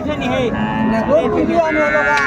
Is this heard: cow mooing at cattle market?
yes